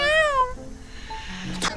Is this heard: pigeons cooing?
no